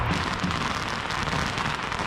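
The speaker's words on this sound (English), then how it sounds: "I noticed a continuous roar of fireworks coming from about a block away." A continuous roar of fireworks about a block away at a Lunar New Year celebration in Portland during a 2021 snowstorm, heard as a steady dense crackle with no pauses and no voices.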